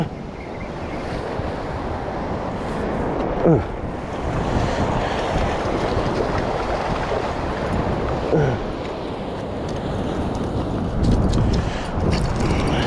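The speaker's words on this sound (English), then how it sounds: "Wait for a bit of a wave to come up to wash him up." Ocean surf washing against rocky shoreline during rock fishing for tailor, a steady broad wash with a few swells breaking a little louder, wind noise over the microphone throughout.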